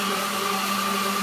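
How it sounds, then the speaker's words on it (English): A high-powered blender whirs steadily while blending a cocoa shake, a loud, continuous motor hum with no breaks or voices. "I'm going to let that blend for 30 to 60 seconds or so."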